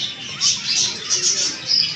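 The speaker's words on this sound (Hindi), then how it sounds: "ये ऑस्ट्रेलियन तोते।" Australian parrots chirp continuously at close range, a busy overlapping twitter that swells and dips without pause.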